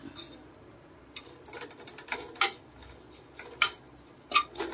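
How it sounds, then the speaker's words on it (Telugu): A ladle scrapes and taps against a pan as neem flowers are stirred and roasted with cumin, pepper and curry leaves, making sharp intermittent metallic clicks over a faint background. "చెయ్యి వదలకుండా గరిటి తిప్పుతూ దోరగా వేయించుకోవాలి వేప పువ్వుని"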